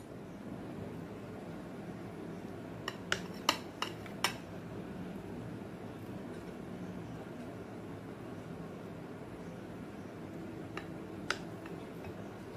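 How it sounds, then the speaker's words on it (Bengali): Knife cutting 250 grams of paneer into cubes on a board for malai paneer curry, a handful of sharp, faint taps clustered together, then two more isolated taps later, all over a low steady room hum. "পনিরটাকে আমি চৌকো করে কেটে নেব।"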